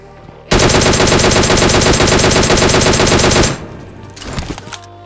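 Sustained automatic gunfire in PUBG Mobile (Battlegrounds Mobile India), a loud, rapid unbroken burst lasting about three seconds, then a few fainter scattered shots afterward.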